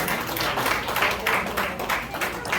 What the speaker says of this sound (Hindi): तालियां बजती रहें डॉक्टर करम सिंह जी के लिए।